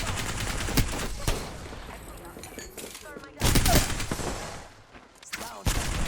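Gunfire in the video game Apex Legends, a fight on a building's second floor: bursts of rapid shots and booms, loud in two clusters with quieter stretches between, a voice talking under parts of it.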